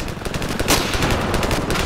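Rapid bursts of automatic gunfire crackle in the Ravenfield video game, a dense run of close, sharp shots with one especially loud report near the middle.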